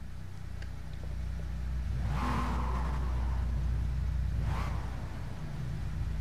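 A 2008 Dodge Viper SRT10 ACR engine in a racing game at Silverstone rises and falls through two distinct revving sweeps over a steady low idle rumble, moderately loud with no talking.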